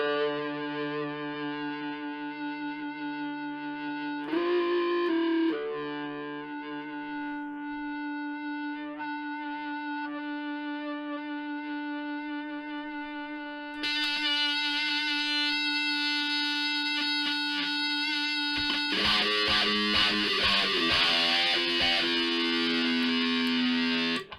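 Electric guitar through a sustainer effect, long notes ringing on and on, heavily effected with distortion and echo, swelling brighter and denser in the second half.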